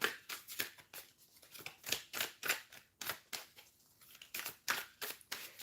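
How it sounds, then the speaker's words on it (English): A John Bauer Tarot card deck is shuffled by hand, making quick rhythmic bursts of papery riffling and flicking that repeat close up and fairly quietly, with no speech. "So yeah, this deck shuffles nicely."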